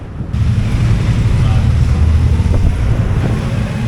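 Steady wind buffets the microphone on a 16-hour ferry crossing to Nova Scotia, with a low rumble of engine and waves beneath a constant roar and no clear talk.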